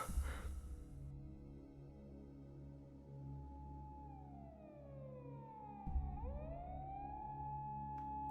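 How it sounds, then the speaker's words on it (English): Distant police car sirens in the video game Steins;Gate 0, a faint wailing that rises and falls over a low steady background hum, with a brief thump partway through. "I could faintly hear police car sirens in the distance."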